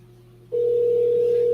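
A telephone dial tone follows a hung-up call: a steady, loud continuous hum that begins abruptly after a quiet moment and holds to the end.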